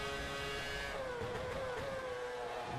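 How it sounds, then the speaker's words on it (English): A 2013 Formula 1 car engine in the rFactor 2 racing game holds high revs, a steady loud whine with shifting pitch running continuously and close throughout. "We're running full revs now."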